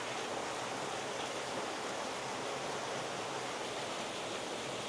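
Hot spring water cascades into a wooden women's bath at Shirabu Onsen in Yamagata, a steady, dense rushing roar that holds evenly throughout with no voices.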